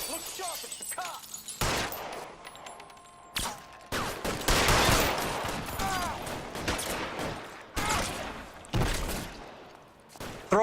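Gunfire in the video game L.A. Noire during a police shootout, sharp bursts of shots separated by short gaps, loud and close, mixed with game voices and impacts.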